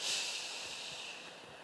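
A slow, steady exhale during a paced breathing exercise, heard as a soft, close airy hiss that fades gradually over a couple of seconds, with no talking.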